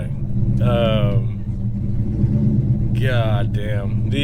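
A cammed Dodge Hellcat with a louder exhaust keeps up a deep, loud, choppy idle rumble throughout, while people talk briefly over it.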